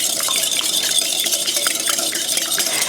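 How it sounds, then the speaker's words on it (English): Two eggs are whisked briskly in a bowl, producing a rapid, continuous rattling clatter of the whisk against the sides, close and loud with no talking. "I'm just going to really quickly just kind of whisk them together"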